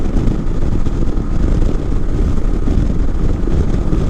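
A Honda Rebel 500 motorcycle cruises on the highway, its engine and heavy wind roar forming a loud, steady, continuous rumble with no pauses or voices.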